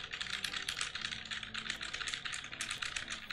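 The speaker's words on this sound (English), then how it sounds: "it's definitely picking up keyboard clicks" Rapid, steady computer keyboard clicks, picked up by a Turtle Beach Elite Atlas Aero headset microphone from about a foot and a half away, run continuously and fairly close, with no speech over them.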